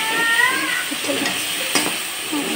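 Ground ginger-cumin paste sizzling in hot oil in a pan as it is stirred for a thin soybean curry, a steady close frying hiss with soft scraping and a brief high tonal cry near the start.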